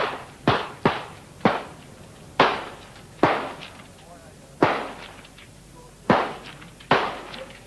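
Rifle shots ring out during cadet weapons training, eight sharp reports at uneven intervals, each with a decaying echo across an open range, over low background noise and no talk.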